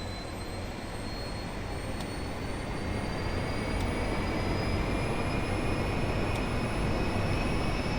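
Twin engines of a Learjet 45 business jet spooled up to takeoff thrust in the Aerofly FS 4 flight simulator, a steady loud broadband roar with a thin high whine riding on top, unbroken throughout.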